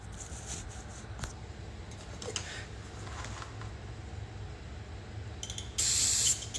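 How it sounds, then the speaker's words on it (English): Short spritzes from a handheld spray bottle misting cleaner onto a dirty surface, a few faint bursts early on and one louder, closer hiss near the end over quiet room noise. "Let me spray it a little bit more."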